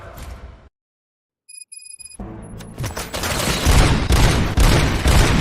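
Dense gunfire from the Robocop: Rogue City video game, a few tonal electronic blips followed by a loud, sustained barrage of overlapping shots and booms that builds and keeps going without a break.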